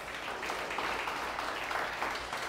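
A church congregation gives a faint, distant round of steady applause lasting a couple of seconds.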